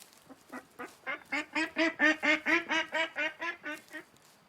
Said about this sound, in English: Quite a few little ducks.